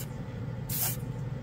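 A homemade spray-can gadget shoots paint in a single loud, hissing burst of about a third of a second, set against a steady low background hum.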